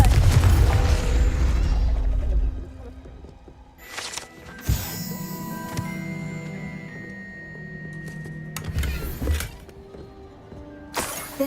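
A Confringo blasting spell goes off in Hogwarts Legacy, with a booming burst near the start followed by sharp crackling impacts and a second blast later, over a steady game soundscape.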